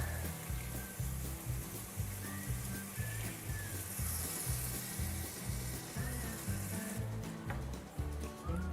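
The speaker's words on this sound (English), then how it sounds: "I made a little shrimp stock with some of the shrimp shells, and I'm adding that liquid now" Shrimp stock made from shrimp shells hits a hot pot of jambalaya gravy with a loud, steady sizzle and bubbling that runs throughout, close and continuous with no talking.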